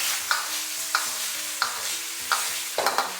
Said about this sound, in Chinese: 最后再淋点小磨香油，然后翻炒几下就可以出锅了。